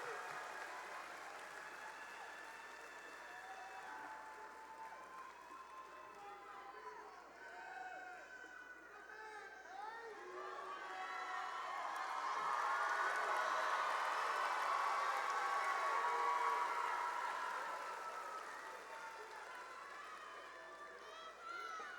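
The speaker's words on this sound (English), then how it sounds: "Let's give them all another big round of applause." A large crowd at the Deep Creek High School 2021 graduation applauds at length, with cheering and scattered voices mixed in, and the clapping swells to its loudest midway before easing off.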